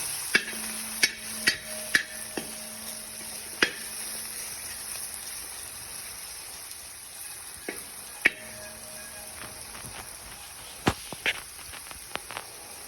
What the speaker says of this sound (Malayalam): അതിലെ വെള്ളമയമൊക്കെ ഒന്ന് പോകുന്നത് വരെ നന്നായിട്ട് നമുക്കിത് ഒന്ന് വഴച്ചെടുക്കാം